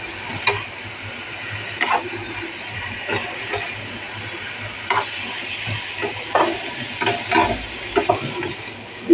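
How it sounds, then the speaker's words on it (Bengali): Ridge gourd sautéed with fried spices in a pan for a thin fish curry gives a steady sizzle, with irregular scraping and clanking from a spoon stirring at close range. "এবারে আমি এই যে ঝিঙ্গাটা দিয়ে দেবো। এটাও ভালো করে আমি সাঁতলাইয়ে নেব।"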